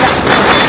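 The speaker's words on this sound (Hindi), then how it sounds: "यहाँ पर बम फोड़ते हुए दिखा" A loud, sharp firecracker blast during Diwali celebrations near a busy street bike rally, a short broadband burst filling the whole moment.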